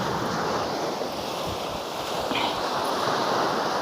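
Rushing water from a fast-flowing stream on a cool trail hike, a steady broadband roar that fills the whole clip with no pauses, close and loud, with no voices.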